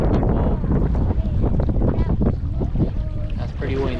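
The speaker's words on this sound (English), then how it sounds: "That's pretty windy." Strong wind buffeting a microphone on a Scottish loch during a canoe crossing, a constant low roar with water sloshing and faint voices mixed in.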